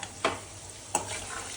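Large-cut potatoes fry in hot oil for french fries, a low steady sizzle punctuated by two sharp stirring scrapes close by.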